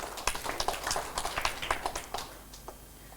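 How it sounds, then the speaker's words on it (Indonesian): A church congregation gives a round of applause during a sermon, scattered, uneven claps that are fairly faint and thin out toward the end. "Tepuk tangan dulu bagi Tuhan yang luar biasa"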